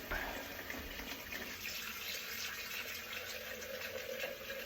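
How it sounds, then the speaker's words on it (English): Tap water runs steadily into a kettle, a continuous close splashing and gurgling stream at moderate volume, with no talking. "I got water in the kettle."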